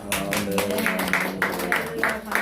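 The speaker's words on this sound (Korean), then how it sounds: "우리 하나님 앞에 또 다시금 박수 올리겠습니다" A church congregation claps in a steady rhythmic beat, about two claps per second, close and moderately loud, with a sung or spoken voice carrying through underneath.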